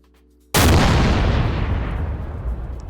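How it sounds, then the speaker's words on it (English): C4 detonates against a metal base door in a Rust-inspired base-building game mod: a sudden, very loud blast after brief quiet, then a long rumbling decay that fades slowly. "I love the explosion sounds, they're so good."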